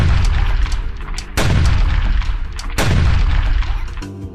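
Bombs bursting in the VR game Niftons Arena on Quest 2, two loud booming blasts with sharp onsets and long rumbling decays over a busy game background, no talk.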